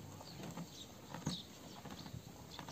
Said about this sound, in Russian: Ирине, иди сюда, погладь лошадь